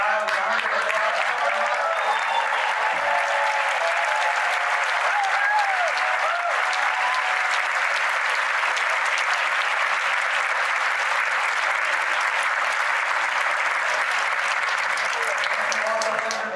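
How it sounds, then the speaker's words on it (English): Sustained applause from a debate audience for a gubernatorial forum, a steady dense clatter of clapping that holds evenly for the whole stretch, with faint brief voices mixed in early on. "Let's all give a loud round of applause."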